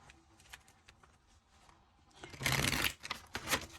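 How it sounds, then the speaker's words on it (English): Tarot cards are shuffled close by during a pick-a-card reading: a few faint taps and riffles come first, then a louder flurry of rapid, papery shuffling in the last second and a half. "And we're also shuffling on screen."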